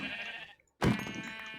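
Two short sheep bleats from the game Minecraft, the second louder and closer after a brief silence, with faint background ambience.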